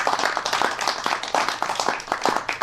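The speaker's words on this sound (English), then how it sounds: "I think Edward deserves a great round of applause" A small audience claps for a speaker after a talk, giving a loose, sparse round of applause of distinct individual claps in an uneven rhythm, close and moderately loud.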